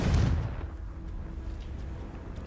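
Confringo fire spell cast in the Hogwarts Legacy video game, one deep booming blast up front that fades into a low rumbling tail, no speech over it.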